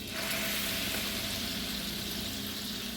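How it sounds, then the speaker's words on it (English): Pork-rib cooking liquid from a crock pot hitting a hot skillet, a loud, dense, continuous sizzle right up close, with no talk. "out of the crock pot and put it into our hot skillet"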